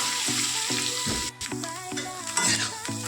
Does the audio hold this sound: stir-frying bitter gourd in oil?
yes